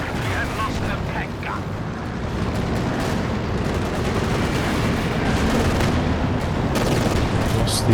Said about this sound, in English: I think that was the Katyusha barrage